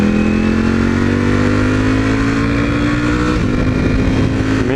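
A Ducati V4 motorcycle rides through traffic, its engine droning loud and close with a slowly rising pitch and dense harmonic tone, steady and unbroken.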